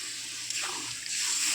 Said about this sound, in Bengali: আমি এবার অল্প জল অ্যাড করে নিলাম।